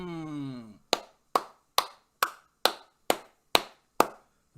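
Eight sharp hand claps in a steady, evenly spaced rhythm, loud and close, following a brief hum of sung or spoken voice at the start.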